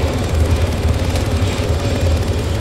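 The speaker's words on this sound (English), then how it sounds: "Get in the fucking chopper." A helicopter in the military game ArmA 3 drones loudly and steadily with a low rotor thump and a dense engine roar, heard close up with no voices.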